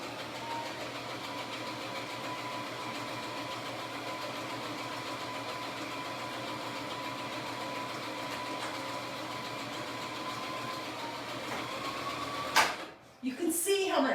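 A sewing machine stitching a ruffle onto a tea towel, running as a steady, even mechanical whir for about twelve seconds before it stops with a few clunks.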